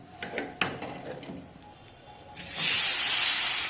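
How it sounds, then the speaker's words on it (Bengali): Cumin seeds and bay leaves tempered in hot oil while cooking a village-style rohu fish curry with bitter gourd: faint clinks first, then a sudden loud, steady sizzling hiss that holds to the end. "তারপরে এখানে আমি জিরে তেজপাতা ফোড়ন দিচ্ছি"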